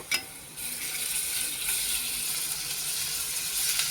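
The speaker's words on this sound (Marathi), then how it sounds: "आता मी ह्याच्यामध्ये हे टाकते, आपलं ही अद्रक लसूणची पेस्ट आहे मी केलेली, मी ती थोडी टाकत आहे ह्याच्यामध्ये" Ginger garlic paste hits onions frying in a pan, bursting into a sharp, loud sizzle after a brief clack, then crackling steadily and close for several seconds.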